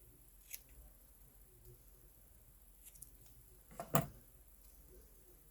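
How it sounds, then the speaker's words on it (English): Scissors cut paper during a craft project, a single sharp snip standing out against a quiet background, with a few faint handling taps before it. "I'm going to have to cut it"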